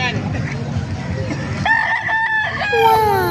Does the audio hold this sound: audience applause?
no